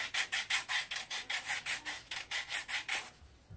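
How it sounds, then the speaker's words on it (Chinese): Sandpaper film stuck onto a phone is rubbed in about a dozen quick, evenly spaced scraping strokes, each a close, dry rasp, with no voices over it. "把砂纸贴到手机上，非常好用啊！"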